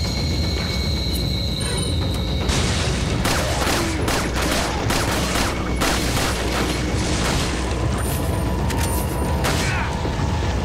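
Pistol gunfire in the survival horror game Resident Evil 4: a rapid series of sharp shots over a constant mechanical game background, starting a few seconds in and continuing in irregular bursts.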